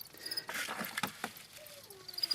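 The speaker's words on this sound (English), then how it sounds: "In here I have around 150 crickets in here." Around 150 crickets chirp inside a container, thin high trills overlapping with soft scratching and patter, close and fairly faint.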